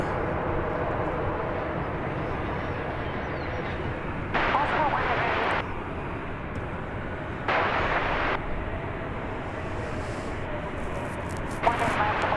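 A UPS Boeing 747 takes off at an airport, its engine roar a steady broadband rumble throughout, loud and sustained, with brief bursts of nearby noise breaking in at intervals.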